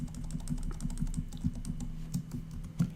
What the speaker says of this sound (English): Control C on my keyboard